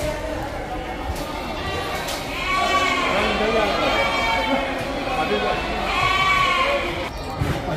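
Goats bleating repeatedly at the Deonar livestock market in Mumbai, a crowd of large animals calling in overlapping harmonic bleats, loud and close, with people talking throughout and market bustle behind.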